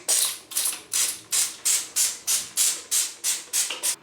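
Roughly eleven quick, hissing spray bursts from a trigger bottle of cleaner onto a shower screen, evenly spaced and close by, with no talking.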